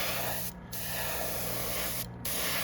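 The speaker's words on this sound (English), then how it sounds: "Sometimes you'd be surprised what you can get just spraying it over top of other colors." An airbrush sprays paint onto a smallmouth bass lure in a rose pattern, two short close hissing bursts with a steady background hiss between them.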